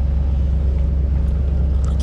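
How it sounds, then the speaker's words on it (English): A 1971 Corvette V8 engine idles cold with a deep, even rumble and a slightly quick, fast-idle throb, loud and close, with no voices. "It's actually a cold idle, so it's running a little bit fast."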